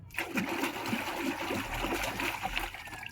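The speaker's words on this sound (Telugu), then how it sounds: "ఈ నార్మల్ వాటర్లోనే డిప్ చేస్తాను నేను ఇప్పుడు" Sarees dipped and swished in a tub of plain water mixed with colour fixer, giving repeated close splashes and sloshing, with water trickling and gurgling throughout, no talk.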